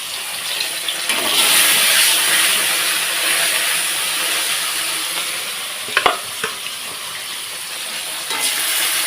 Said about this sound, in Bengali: তো মাছগুলো দেখো ভালোভাবে উল্টে পাল্টা ভেজে নিচ্ছি